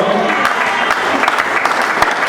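Church congregation clapping and applauding in praise during a sermon, a dense, steady burst of hand claps filling the room throughout.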